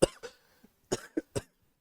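A person coughs in a close, dry burst, then after a short pause lets out a quick run of three more coughs.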